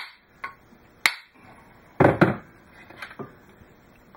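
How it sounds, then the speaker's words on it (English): Several sharp metallic strikes of a copper hammer on the crank cheeks of a vintage kart engine ring out at irregular intervals, one a quick double blow, in an otherwise quiet space. "We'll actually take a whack on this thing"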